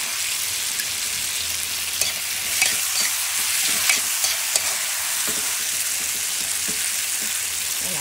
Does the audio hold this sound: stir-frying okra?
yes